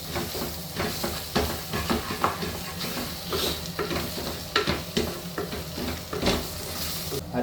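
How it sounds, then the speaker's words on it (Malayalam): Beef being stirred with beef masala in a hot pan, a steady sizzle and fry hiss under repeated scraping and clattering stirring strokes, close and fairly loud throughout with no talking. "ബീഫ് മസാല നമ്മുടെ കൂട്ടണം. അതുകൊണ്ടിട്ട് നന്നായി ഇളക്കി കൊടുക്കും."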